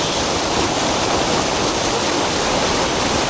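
Rushing water from a waterfall at Long Point, Palawan, a loud, steady broadband roar that fills the whole stretch without pause, close and unbroken.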